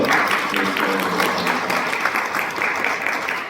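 A church congregation at a youth Sunday worship service applauding, dense steady clapping filling the whole stretch without pause.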